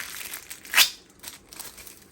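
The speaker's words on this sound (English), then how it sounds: "get a knife and make yourself some little squares of paper" A knife slices through baking paper to make small squares, giving one sharp, crisp crinkling cut up close, followed by quieter papery rustles.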